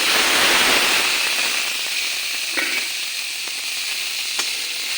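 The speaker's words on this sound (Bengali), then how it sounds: "আমি এখন দেখ ভাজা করা মাছ আর বেগুনগুলো দিয়ে দেব" Tengra fish and eggplant, already fried, go into a pan of hot cooked-down spice paste, giving a steady close sizzle with a few faint clicks and scrapes of stirring; no one speaks.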